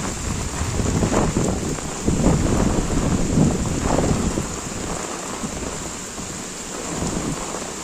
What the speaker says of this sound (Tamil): இந்த மழை பார்த்தீங்கன்னா விடிய தான் பெய்தது